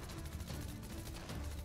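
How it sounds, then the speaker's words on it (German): Gunfire in the video game Fortnite sounds as a faint, rapid burst of repeated shots, steady and distant, with no voices over it. "Von da kam Schüsse gerade, glaube ich."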